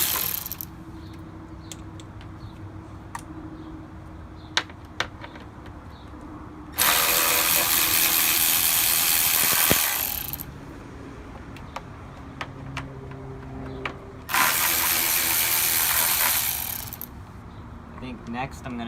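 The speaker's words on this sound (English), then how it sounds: "We're going to take our Milwaukee cordless ratchet and unscrew the bolts." A Milwaukee cordless ratchet unscrews radiator fan bolts on a 2003–2007 Honda, whirring loudly in two sustained bursts of a few seconds each, separated by quieter clinks and handling noise close by.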